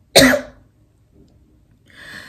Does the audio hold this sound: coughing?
yes